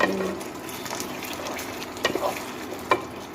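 Capsicum being stirred in a frying pan with salt added, a steady close sizzle under scraping spatula strokes, with a couple of sharper clacks of utensil on pan near the end.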